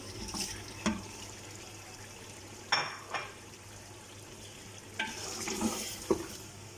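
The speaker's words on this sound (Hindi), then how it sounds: "अभी तो ये और भुनाई होगी थोड़ी सी, क्योंकि अब मैं इसके अंदर टमाटर ऐड कर रही हूँ।" Masala for aloo gosht fries softly in a pot after tomatoes go in, a low steady sizzle broken by a handful of scraping stirs and clinks at irregular intervals.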